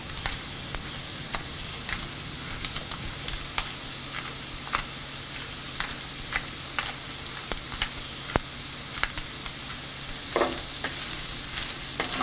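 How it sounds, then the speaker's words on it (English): Sweet potato and bacon fry in a pan with black pepper, a steady loud sizzle broken by frequent sharp scrapes and clicks of stirring, the hiss swelling briefly near the end. "Now the sweet potato and the bacon cook well. Add some black pepper and mix well."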